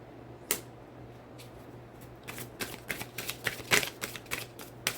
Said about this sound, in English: even that card being in the deck as I'm shuffling